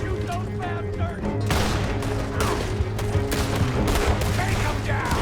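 Gunfire in the video game Red Dead Redemption 2 crackles in a dense, loud exchange of repeated shots, with shouting voices mixed in throughout.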